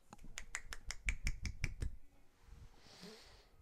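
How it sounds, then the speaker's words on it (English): A single hand produces a rapid run of about ten crisp, clapping snaps at a steady rhythm, then stops abruptly, leaving a quiet room. "Here's the sound of one hand clapping."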